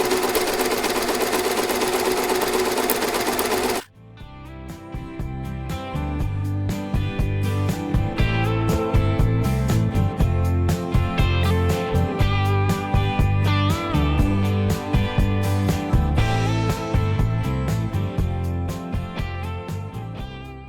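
Sewing machine stitching a neckline finish on fabric: brief noise gives way to a fast, even mechanical chatter of the needle running steadily for many seconds, close and loud.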